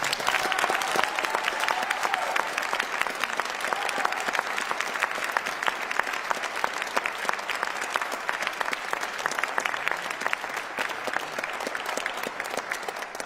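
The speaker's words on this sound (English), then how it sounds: "Give our candidates a round of applause." Sustained audience applause for candidates at the end of a Salt Lake County political debate: a full, continuous wash of clapping from a crowd that holds steady for several seconds.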